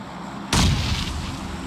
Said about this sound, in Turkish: Bomba geldi.